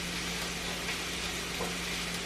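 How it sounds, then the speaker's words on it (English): Onions sizzle in a hot pan as they cook until translucent, a steady soft frying hiss that runs evenly throughout without talk. "Onions until they're a little bit translucent, release all the flavors in the onions."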